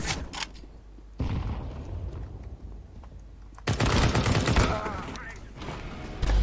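Gunfire in the game CS:GO, with sharp bursts and rapid volleys, a quieter stretch in between and then a dense, loud run of shots.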